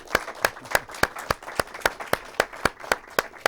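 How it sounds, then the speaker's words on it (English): An audience claps together at an event about plastic pollution in the seas, a run of distinct, fairly sparse claps spread evenly across the moment with no talking over it. "So if we could all give them a big round of applause."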